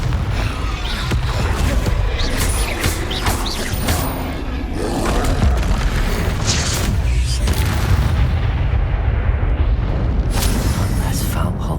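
The fire-blasting Confringo spell in Hogwarts Legacy sets off repeated booming explosions amid continuous loud combat noise, with crackles and rumbles and a voice talking over parts of it.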